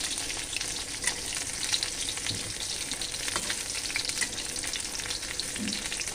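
Food sizzling in a pan as pieces are turned over one at a time, a loud continuous frying hiss with small scraping and tapping touches throughout.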